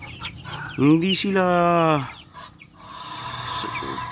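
Chickens cluck in a coop, with a short burst of loud, tonal squawking from one bird and softer clucks around it, while a person speaks briefly.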